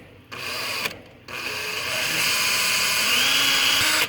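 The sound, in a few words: power drill drilling out holes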